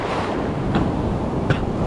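Rough sea waves roll and wash against the shore during fishing, a loud steady roar with wind buffeting the microphone.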